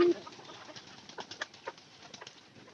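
Pigeons kept in a loft give faint, scattered cooing with a few soft wing flutters, heard at a distance over a quiet background.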